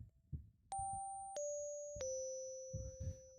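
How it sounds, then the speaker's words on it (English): Bell-like tones from a free software synthesizer plugin set to mono mode: three clear pitched notes in a row, each cutting off the last and stepping downward. Each note rings with a bright attack and a steady sustain over low background rumble. "That sounds like a bell, dude."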